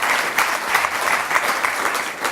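An audience at a memorial oration event claps for the event staff. The applause is steady, dense and fairly loud, sustained throughout without a break.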